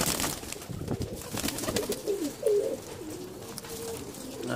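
A blue pigeon coos in a loft in the UK, a low warbling call swelling near the middle and trailing off, close and moderately loud over background noise.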